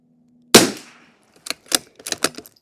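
A Savage Mk II FV rifle with a freshly recrowned barrel fires one sharp, loud shot with a decaying tail, followed after a pause by a rapid cluster of crisp, mechanical clicks and clacks.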